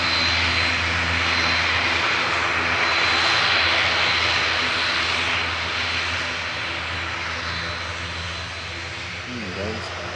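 A jet airliner engine roars steadily at Manchester Airport, loud and near before slowly fading, with people talking faintly underneath.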